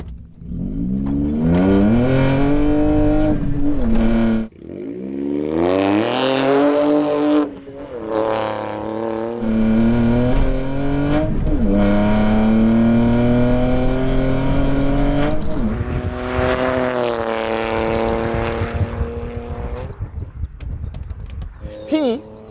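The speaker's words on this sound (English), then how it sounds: "Right, stage 2, VW Up 160 bhp. Give us some revs." A 160 bhp stage 2 VW Up with a 1-litre three-cylinder engine revs hard and accelerates, the loud, raspy engine note climbing and dropping through repeated throttle blips and pulls, with a brief lift-off near the start and voices heard faintly underneath.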